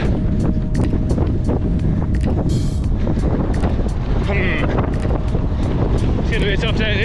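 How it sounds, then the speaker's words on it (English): Strong headwind buffeting a runner on a road during a half marathon, a loud, constant roaring rumble of wind against the microphone, with brief faint tones and a voice in the background. "this wind is battering me"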